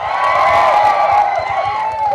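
A crowd at a trailer launch event for a Telugu film cheers and claps loudly, with whoops and shouts forming a dense, sustained roar that never lets up.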